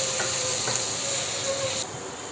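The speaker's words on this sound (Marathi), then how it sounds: "हा कांदा आपल्याला छान असा परतून घ्यायचा आहे।" Chopped onions sautéing in a pan for pav bhaji give off a steady, close sizzle with a constant bright hiss that drops slightly in level near the end, with no voices.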